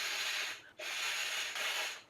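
Breathy exhalations blown by mouth into a backpacking sleeping pad to inflate it: two long, close airy rushes separated by a brief gap for a breath, with no talking.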